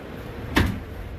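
The sliding door of an ambulance at a trade show moves with a single short thud-and-slide about halfway through, faint against quiet background noise.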